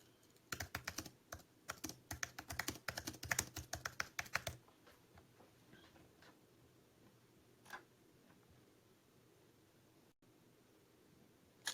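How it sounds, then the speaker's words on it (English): Quick bursts of clicking keystrokes on a computer keyboard fill the first few seconds, then fade to a quiet room with a couple of isolated clicks. "Oh, let me type it in."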